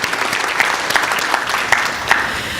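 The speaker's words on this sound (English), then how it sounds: "please give them a round of applause" Audience applause at a legislative day event for Janet Wall and the VNA staff: a room of people clapping steadily, with a few sharper individual claps standing out and no speech.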